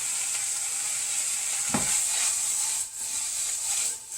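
Onions and peppers for chicken fajitas sauté in a hot pan with a steady, close sizzle and a brief clatter midway.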